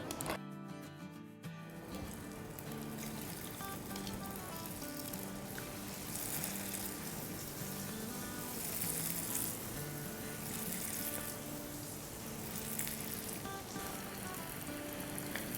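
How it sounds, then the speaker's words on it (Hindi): Keema samosas fry in oil on medium-low heat, giving a steady, soft, rain-like sizzle that runs continuously after a brief clatter at the start. "यानी बेसिकली हमें इसे मीडियम लो पे फ्राई करना है"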